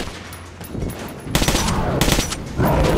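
Gunfire in Metro Last Light Redux as a player shoots at a large demon, loud rapid bursts that start after a quieter opening and then continue as sustained shooting.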